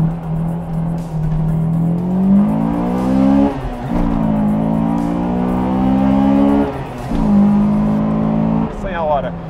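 A Honda Integra Type-R accelerates hard from a standstill toward 100 km/h, the engine rising steeply in pitch through the gears with brief dips at each shift, loud and close inside the cabin, with someone speaking over it.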